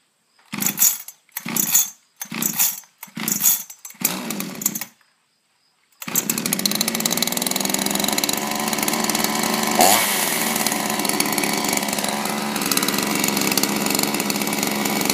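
A cheap Chinese clone chainsaw cold-starts: five short, rhythmic pull-cord bursts, a brief pause, then the engine catches and runs steadily and loudly to the end.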